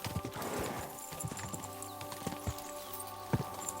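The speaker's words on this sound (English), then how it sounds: "why is my horse running like crazy?" Horse hooves clip-clopping at a fast run in Kingdom Come Deliverance 2, a rapid irregular beat of hoof strikes over a soft ambient bed with a brief whinny, fairly close and moderately quiet.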